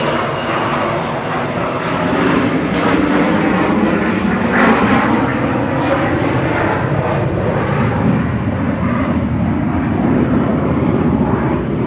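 Etihad aircraft A6-EOI on the runway at Manchester Airport, rotating and climbing away: a loud, sustained broadband engine roar that holds steady and rumbles throughout, with no talk.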